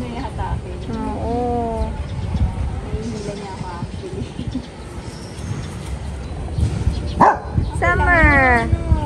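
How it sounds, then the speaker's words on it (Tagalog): A small chow chow dog gives a string of high, yappy barks and whimpering yips, some close and loud, mixed with people talking and a busy household background throughout. "Ang liit lang ng tahol."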